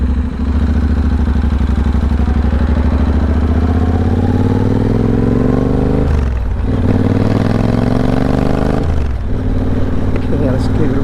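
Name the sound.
Triumph Bobber motorcycle engine running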